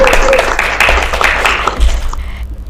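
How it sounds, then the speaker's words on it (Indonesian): An audience at a podcast event claps together for a few seconds after being asked to applaud, a busy patter of hands that fades out near the end. "Boleh tepuk tangan."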